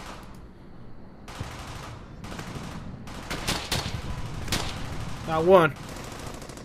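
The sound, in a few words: machine gun fire in video game Brothers in Arms: Hell's Highway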